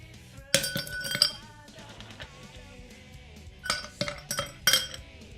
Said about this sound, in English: Strain this into a tall glass over ice and top with orange juice.